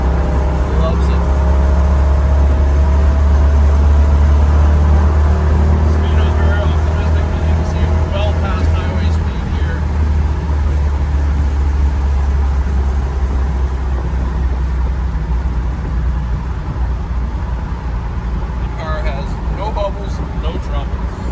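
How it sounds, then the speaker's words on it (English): A 1968 Chevrolet Camaro engine drones loud and steady from inside the car as it drives on dry roads, a low continuous rumble with mild rises in revs throughout. "back on the throttle. As we pick up some RPM, the car just loves it."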